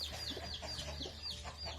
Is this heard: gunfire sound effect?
no